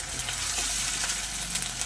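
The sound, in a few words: ginger garlic paste frying in a pan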